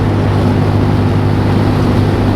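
An AJS Modena scooter with 10-inch wheels being ridden, its engine drone and rushing wind noise forming a loud, steady, unbroken roar close to the rider.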